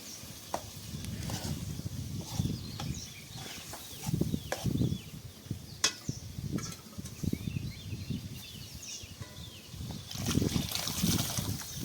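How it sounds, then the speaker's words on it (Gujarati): Vegetable cooking water is poured into a pan for rajma chawal, a soft trickling splash with intermittent bursts of sizzle and clatter, fairly quiet and close. "શાક બફાઈ ગયેલું પાણી જે હોય એ નાખી દેવાનું આમ"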